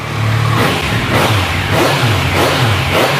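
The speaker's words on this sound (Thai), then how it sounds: "รอบเดินเบานี่ครับคันนี้อัตราเร่ง" A 2019 Yamaha Tracer 900 GT with a genuine Akrapovic exhaust revs in repeated quick blips from idle, the engine rising and falling sharply about four times, loud and close with no talk.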